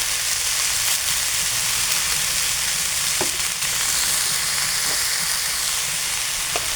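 Spices and turmeric are stir-fried in a pan for a chickpea curry, giving a loud, continuous sizzle with a few faint clicks from stirring.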